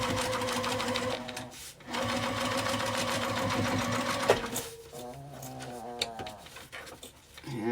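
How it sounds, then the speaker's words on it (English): Sewing machine top stitching through the main fabric of a zipper makeup bag: rapid, rhythmic mechanical chattering runs in close bursts with brief pauses, while a voice talks over it. "I'm just going to top stitch through the main, not the lining."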